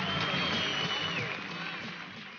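Golf gallery applauding Tiger Woods' birdie putt at the 1999 PGA Championship, a broad, steady wash of clapping from a crowd that slowly tapers off over a couple of seconds.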